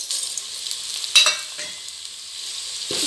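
Ingredients for a raw jackfruit biryani sautéing in a pan, a steady close sizzle with a few louder stirring scrapes, no voices.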